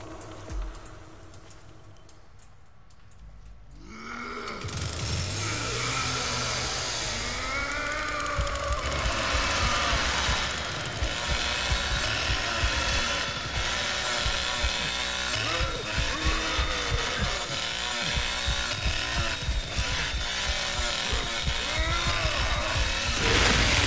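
Chainsaw in the Texas Chainsaw Massacre video game revving up in a long, steady, loud mechanical drone with rising and falling whine, after a brief quieter lead-in.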